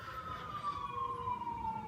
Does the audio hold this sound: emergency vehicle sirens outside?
yes